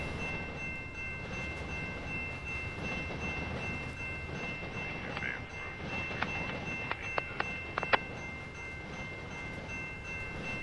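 A train rolls through a railroad crossing in the Trainz TRS19 game, giving a steady loud rumble throughout with a high crossing-bell tone and a burst of rapid metallic clicks near the end.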